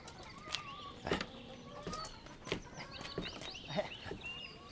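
Chickens cluck in a coop, several short, nearby calls in uneven bursts over a soft rustling background, with no voices.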